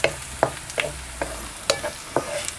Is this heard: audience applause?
no